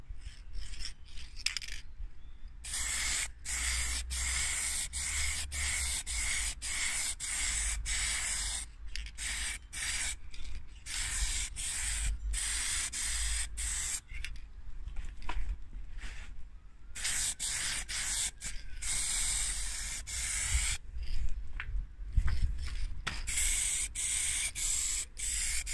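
A final shine coat of spray paint going onto a plastic home-built computer case, heard as close, steady hissing bursts broken by short pauses, with no talk.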